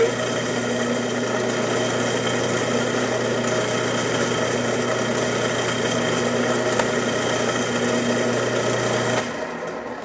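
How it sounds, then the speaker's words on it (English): A power drill whines steadily as it bores through a piece of acrylic, a constant close-up motor drone with tonal hum that drops off near the end as the drill stops. "Then I'm going to drill this through."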